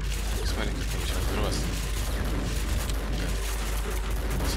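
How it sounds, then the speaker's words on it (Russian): Explosions and grenades in the Max Payne video game, heard as a dense, loud rumbling barrage of booms and crackling blasts that continues without pause. "взрывается. Смотри, гранаты летят."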